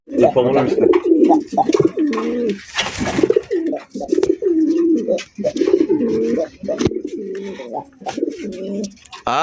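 Pencil potter pigeons coo up close in repeated low, rolling calls, with someone talking intermittently among them.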